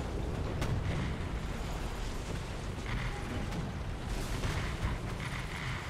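Continuous rumbling battle noise from a War Thunder tank match, with dense low booms and scattered sharper cracks of artillery fire rolling steadily throughout, loud and sustained with no speech.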